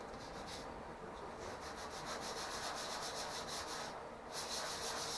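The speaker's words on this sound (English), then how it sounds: "Just when I thought I was done sanding." Steady back-and-forth sanding by hand on a veneered wooden table, a faint close scratchy rubbing in rhythmic strokes with a brief pause near the end and no talking.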